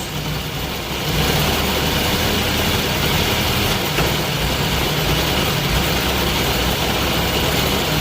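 A truck engine runs steadily in a protected forest at night during a recovery effort, a loud, constant low rumble that swells slightly after the first second and continues unbroken.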